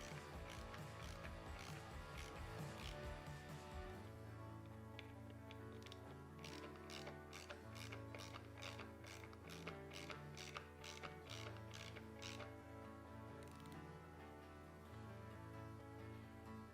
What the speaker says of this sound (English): we will torque them down to 100 inch-pounds.